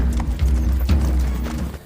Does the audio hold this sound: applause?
no